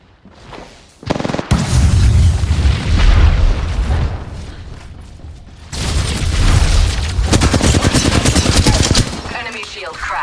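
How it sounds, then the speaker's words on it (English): Gunfire in the video game Apex Legends, dense bursts of rapid shots and booms in two long stretches with a short lull between, loud and close, mixed with game voice lines. "Oh, they're shooting at me."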